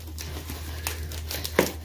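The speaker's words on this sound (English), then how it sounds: "now we're into this brown plastic bag here" A brown plastic bag heavily wrapped in shipping tape is pulled open, giving soft crinkles and tearing rustles with a sharper rip near the end, close by over a steady low hum.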